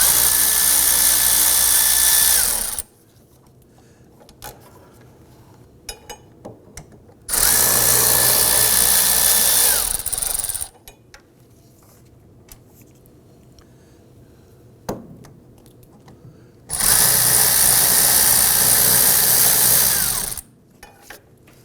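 A power tool spins out the rear spindle bolts on a 2008-2011 Ford Focus in three loud, whining bursts of a few seconds each, with quieter clinks and handling noises in the pauses between.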